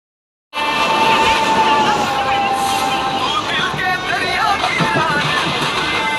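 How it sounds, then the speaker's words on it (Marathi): A Mumbai suburban Dahanu local train sets off in a sustained, loud rumble and clatter with tonal squeals over it, while a crowd of passengers chatters and calls out underneath. "बोरवलीवरून आम्ही इथून आता डहाणू लोकल पकडणार आहोत"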